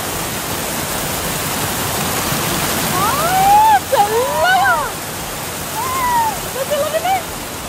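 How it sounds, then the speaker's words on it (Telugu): Steady rushing water flows throughout, a continuous broadband roar from a mountain stream of melted snow and ice running down the slopes, with voices talking over it partway through. "మంచి అంతా కూడా నీళ్ళలాగా మారి కింద రివర్ లాగా పారుతూ ఉందన్నమాట"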